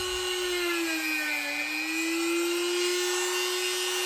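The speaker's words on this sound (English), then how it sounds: "I'm also going to Dremel the inside of the pouches a little bit as well" Dremel rotary tool grinding inside the pouches of a plate carrier vest, a steady high-pitched whine with a slight dip in speed, continuous and close.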